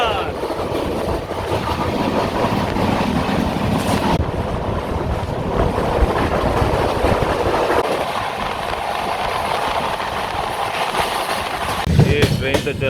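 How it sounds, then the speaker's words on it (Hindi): A moving passenger train on the Gwalior to Bangalore route, heard from an open door, with a loud, continuous roar of wheels and rushing wind close by and faint clatter throughout. "ये ट्रेन तो चल रही है"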